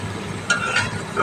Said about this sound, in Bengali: তরকারি টকবক করে ফুটতে শুরু করেছে